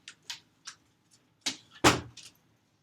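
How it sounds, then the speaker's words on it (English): A door being closed at home: a few light clicks and taps of the handle and latch, then a firm thud as it shuts, close by and otherwise quiet. "Hold on one second, I'm gonna close the door."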